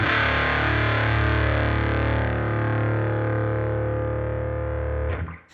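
A distorted Epiphone Firebird VII electric guitar with thick fuzz holds a sustained, buzzing chord, loud and steady, then cuts off abruptly near the end.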